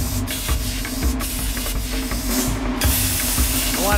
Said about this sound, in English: the downdraft works. So it sucks that smoke right down.